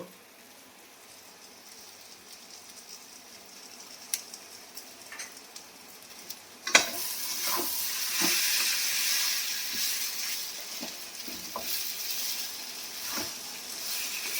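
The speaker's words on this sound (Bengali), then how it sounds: "গরম মশলার গুঁড়ো দিয়ে ভালো করে একটু নেড়ে নিই" Chicken sizzles in a frying pan as garam masala powder is stirred through, quiet at first, then a sudden clatter of the spatula and a louder steady hiss of frying with scattered scraping taps.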